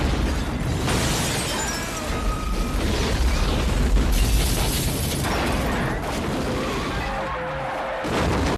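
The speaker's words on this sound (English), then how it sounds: "Then leads to a massive explosion." A massive, rumbling building explosion in the 1998 film The X-Files: Fight the Future roars and crashes on, dense and loud throughout, with debris-like clatter and booming low end and no talk.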